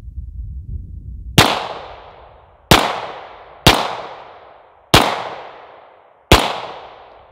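A Springfield 1911 Range Officer pistol in 9mm fires five loud, sharp shots at a shooting range, unevenly spaced, each with a cracking report and a short fading echo, with no talking.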